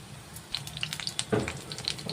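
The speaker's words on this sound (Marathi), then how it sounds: "वडे घालून घेऊया तेलावर" Besan vadi pieces frying in hot oil, a soft steady sizzle with faint crackles and pops scattered throughout and one brief louder bubbling burst midway.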